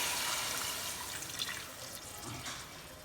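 Water pours and splashes over raw meat, a soft continuous running-water sound that is fairly faint and fades a little toward the end.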